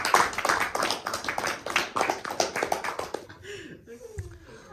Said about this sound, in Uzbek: Qarsak.